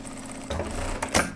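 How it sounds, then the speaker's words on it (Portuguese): A sewing machine stitches a shirt collar closed in a short close burst of quick mechanical whirring and clicking, with a louder thump near the end. "Vou fechar esse meio aqui de novo da gola."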